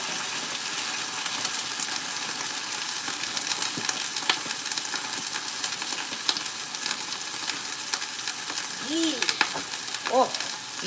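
Beef sizzling and frying in a pot for a stew, a steady broadband hiss held at a constant level across the whole stretch, with small clicks and a brief burst of voice-like sound near the end.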